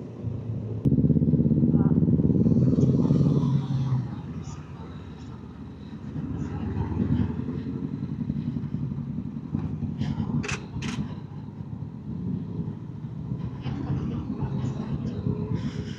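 A large group of motorcycles rides together along a road in a women riders' event, a loud close engine roar in the first seconds easing to a steadier drone of bikes while people talk.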